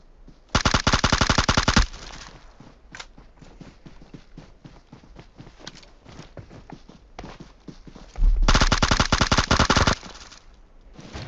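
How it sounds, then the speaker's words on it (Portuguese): Two long bursts of rapid automatic gunfire in the game PUBG Mobile, loud and close, separated by a stretch of quieter clicks and footsteps. "Se eu não me engano, o tiro foi pra cá."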